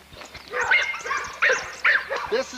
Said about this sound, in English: Maggie May is the Pitweiler, or as he's called, Devil Dog.